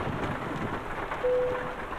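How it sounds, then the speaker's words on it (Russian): Steady rain falls in the Euro Truck Simulator 2 video game, a broad wash of hiss and patter with a brief tonal blip partway through, and no voices. "Вот и пошел дождик."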